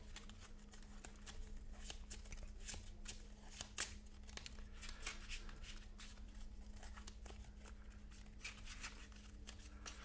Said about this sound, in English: Shuffling his little deck up.